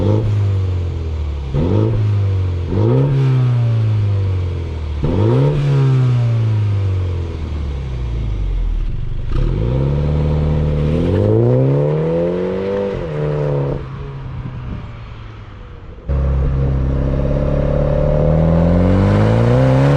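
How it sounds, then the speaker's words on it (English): A 2022 MINI Cooper JCW GP Edition engine revs hard through repeated gear pulls while driving, each rise climbing in pitch before dropping at the shift, loud and close with a steady drone at the end. "let's go on a drive and let me tell you about the experience, the handling of the car, and how the car sounds"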